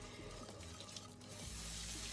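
Milk poured gradually into a white sauce in a pan splashes steadily and close by, a continuous wet churning with no talk over it.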